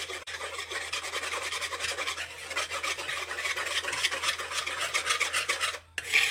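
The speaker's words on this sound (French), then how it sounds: "Vous mélangez bien afin qu'il n'y ait plus de grumeaux" Sfenj dough batter is stirred in a bowl to work out the lumps, giving a steady, close scraping and rasping that runs continuously at low volume with no talking.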